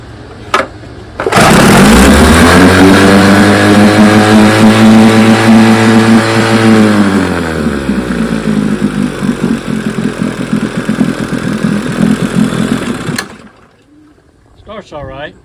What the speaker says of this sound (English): Starts all right, but the rewind starter got jacked up.